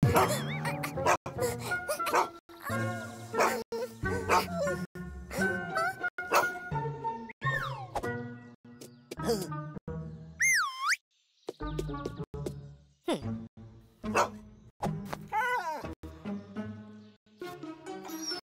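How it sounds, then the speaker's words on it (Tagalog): A dog barks and yips repeatedly among cartoonish boings and sound effects, with voices talking in between. "Hinabol ng aso ang mga magkaibigan, pero nagawa nilang umakyat sa bakod."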